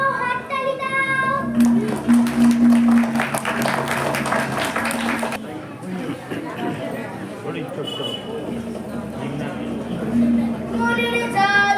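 Children's audience clapping for a song at a school drama performance, a dense burst of applause in the middle, with children's voices and singing before and after.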